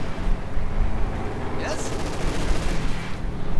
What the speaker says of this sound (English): So there we go, ammunition cooked off